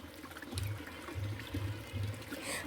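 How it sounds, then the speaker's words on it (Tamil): Water is poured over cleaned fish to rinse them in a village setting, giving a soft splashing trickle in short repeated bursts, faint and close. "இப்போ மறுபடியும் தண்ணி ஊற்றி ஒரு வாஷ் பண்ணிக்கலாம்."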